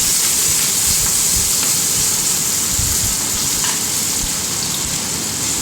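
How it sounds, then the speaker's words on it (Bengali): Chopped onions frying with bay leaves and slit green chillies for restaurant-style chicken do pyaza, giving a steady, dense sizzling hiss that runs unbroken and fairly loud throughout, with no talking. "পেঁয়াজটাকে ভালোভাবে লাল লাল করে ভেজে নেব"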